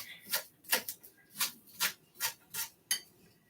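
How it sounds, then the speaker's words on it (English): Knife chopping broccoli on a cutting board, a steady series of about eight crisp, evenly spaced chops close by in a home kitchen, with no talk over them. "So I'm chopping them in small pieces."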